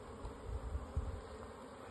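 Honeybees from a package being installed into a hive, queen placed between drawn wax frames, hum with a low, steady buzz close by and alone, a couple of slightly louder swells.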